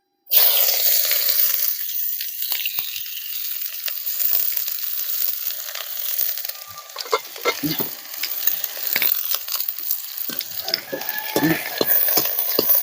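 Finely chopped onions hit hot mustard oil with a sudden loud hiss, then sizzle steadily under scraping and stirring from a spoon, with no voices.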